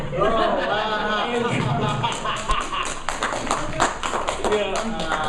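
Scattered clapping breaks out from a convention panel audience, a short patter of hands layered under ongoing talk and chatter from the room.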